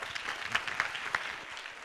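Applause from a small group, dense patter of clapping with a few sharper claps standing out, fairly close and steady throughout.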